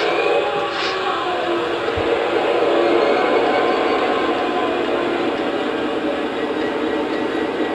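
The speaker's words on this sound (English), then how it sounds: "So now I'm going to address the locomotive and start it up." A model train locomotive with its smoke unit switched on starts up, giving a steady, loud electrical hum and rumble that holds evenly throughout with no distinct individual sounds.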